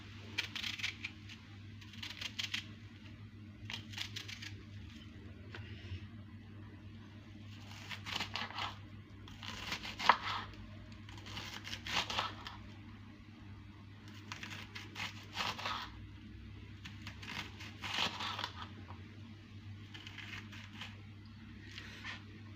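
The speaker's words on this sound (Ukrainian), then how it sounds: "Цибулю я покришу дрібним кубиком." Onion diced by hand with a knife, held in the palm rather than on a board, a series of irregular crisp clicking cuts in short bursts with brief pauses, close and fairly faint over a low steady hum.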